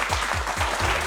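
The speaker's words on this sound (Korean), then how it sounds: "두 분의 주인공 박수로 모시겠습니다" Applause from a studio audience welcoming two guests onto a science talk show, a dense even burst of clapping, loud and close, with no talk over it.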